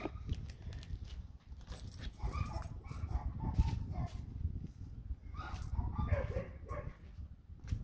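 Dogs bark and yip in short, irregular bursts across the stretch. The barking is moderately distant and mixed with low background rumble and some voice.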